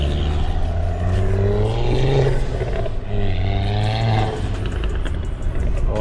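A 2015 Subaru WRX fitted with a Tomei catback exhaust revs loudly and close by, its deep exhaust note rising and falling twice in sustained sweeps with a raspy, roaring edge.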